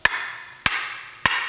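A hammer strikes an axe handle to drive it back onto the axe head, three sharp, evenly spaced blows about half a second apart, close and loud, each ringing briefly.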